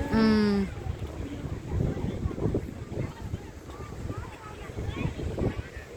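Gusty wind buffets the microphone by the sea at the Kiama Blowhole, New South Wales, Australia, rising and falling in loud rumbles, with a short whistling tone at the start.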